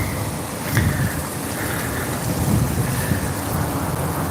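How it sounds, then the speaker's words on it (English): Wind and rain roar loudly and close outdoors on a city street, a continuous rushing wash with gusty swells and low rumbling, and no one speaking. "Lots and lots of wind and rain."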